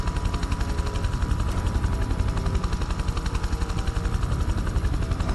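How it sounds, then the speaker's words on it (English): A helicopter in the video game Prototype 2 thrums continuously with rapid, pulsing rotor beats, loud and close throughout, with sharp gunfire-like cracks mixed into the steady chop. "I wanted to kill the chopper first."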